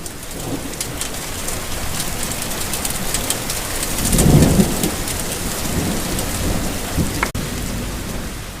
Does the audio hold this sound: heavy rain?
yes